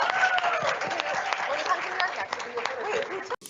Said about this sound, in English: please give our panelists a huge, huge round of applause